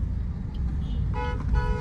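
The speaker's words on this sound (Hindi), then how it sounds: "हॉर्न बजा ले खड़े हैं।" Car horns honking in street traffic in Shivamogga during Dasara, steady road noise with engine rumble, then several short toots close by toward the end.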